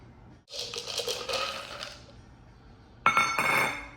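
Quarter-cup portions of cashews, almonds and pistachios tumble into a grinder jar in two bursts of clattering, glassy clinks, the first lasting over a second and the second shorter and sharper, close by with no talk.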